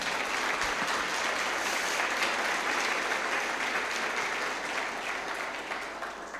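A church congregation applauds together, a dense, steady wash of clapping filling the space from start to finish and easing slightly toward the end, with no voices over it.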